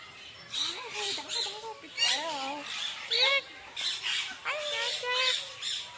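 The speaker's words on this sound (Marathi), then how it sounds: "किती भारी आवाज तर हा पक्ष्यांचा नॅचरल आवाज" Loud, harsh squawks from several parrots at a zoo in Dehradun, repeated in bursts close by over a faint background hum.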